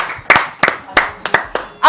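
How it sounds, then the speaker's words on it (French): A group of people clapping together in a steady rhythmic beat, about three claps per second, fairly close, an audience applauding at a live show. "Applaudissez très fort pour Rachidi."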